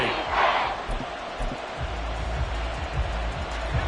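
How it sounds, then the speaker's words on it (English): A packed football stadium crowd at Arrowhead roars during a third-and-goal play. The noise is a dense, loud, sustained wash that swells slightly, with no clear gaps. "this is where the Arrowhead crowd can make it very tough"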